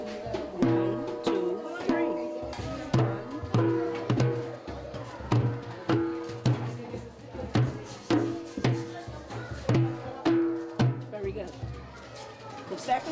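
Struck drum in a three-count rhythm, a deep bass hit followed by tenor hits, repeating steadily with sharp attacks, with room noise and some voices faintly in the background.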